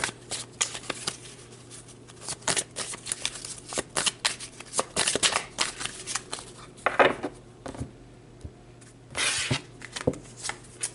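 Tarot cards being shuffled and pulled, close up, in irregular bursts of riffling, flicking and slapping card sounds with short pauses between them.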